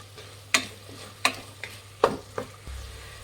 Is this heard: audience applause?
no